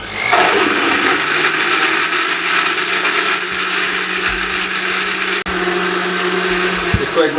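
Kitchen blender grinding an Oreo milkshake with ice cubes, a loud steady whirring buzz running for several seconds, briefly dipping before it stops near the end.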